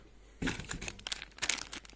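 Plastic packaging bags crinkle and rustle as a Hercules guitar stand is unpacked, a burst of close, irregular crackling that starts abruptly and continues in uneven handling bursts.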